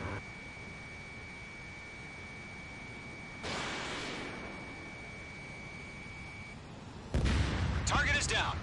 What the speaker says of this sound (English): Bomber hit by a missile.